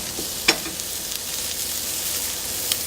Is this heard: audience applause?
no